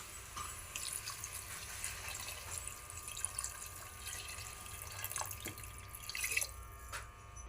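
Water poured into a pan of mutton curry, a quiet steady trickling and splashing of liquid with a few faint drips, close by and without talk.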